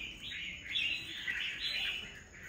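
Red-whiskered bulbuls, wild-caught birds kept for fighting, chirp in quick, bright, overlapping bursts, close and fairly loud, with no talk over them.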